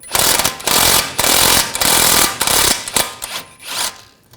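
An impact wrench with a 21mm socket spins a tie rod nut off the steering rack of a 2007-2013 BMW 328i, giving loud, close rattling bursts of hammering that stop and restart several times before trailing off.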